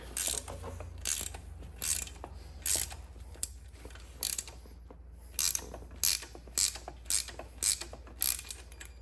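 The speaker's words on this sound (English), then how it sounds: "We're gonna start loosening the spring." A hand ratchet loosens a spring compressor on a BMW X strut, producing a steady series of sharp, close clicking strokes in short regular bursts with brief pauses, over a low background hum and no talking.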